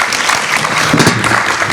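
At a summit session, an audience gives a loud round of applause after an interview. Many hands clap in a dense, continuous burst close by, with a faint voice just under the clapping.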